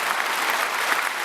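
A concert crowd in Nukus breaks into dense, sustained applause in honour of the women. The many hands blend into a loud, even roar of clapping.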